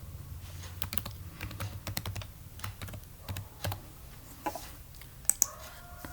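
Username and password typed on a computer keyboard at a staff login screen, a steady run of quiet, close key clicks with a couple of sharper taps near the end.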